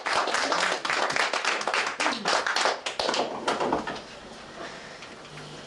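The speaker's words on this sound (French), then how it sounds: "Acclamez pour le Seigneur." Church congregation clapping and cheering in praise, dense rhythmic applause for about four seconds that then fades into softer scattered sound.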